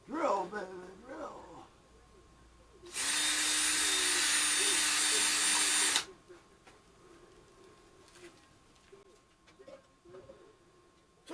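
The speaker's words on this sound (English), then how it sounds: "Drill, baby, drill." A power drill enlarges a hole while a radio and service door are being mounted, making one loud, steady whirring burst of about three seconds, with someone talking before and after it.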